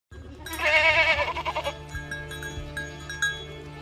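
A sheep gives a loud, quavering bleat up close, followed by a quieter, trailing call against a faint background hum.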